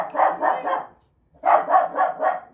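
A dog barks in two bursts: three loud, close barks, then a brief pause, then four more at a steady rhythm, with no talking over them.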